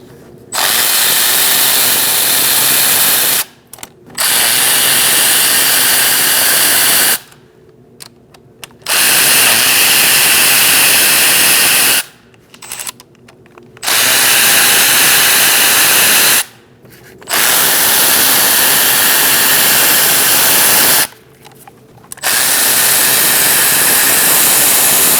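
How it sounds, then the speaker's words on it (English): Intake manifold bolts come out of a 2008-2014 Mercedes-Benz C300 3.0L V6 with an E10 socket on a power tool, in five loud, sustained whirring bursts separated by short pauses, with no talking. "1, 2, 3, 4 bolts need to come out using an E10 socket."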